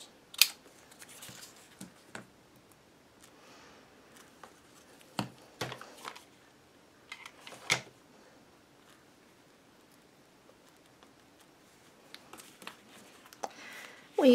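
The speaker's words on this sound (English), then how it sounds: "I am going to trim this to fit and glue it down." Scissors trim paper for a journal album: scattered close, quiet snips and paper rustles come in short clusters separated by pauses, with soft handling noises in between.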